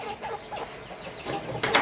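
Chickens on a small home farm clucking nearby, a few short calls rising over a low background, with a brief flutter near the end.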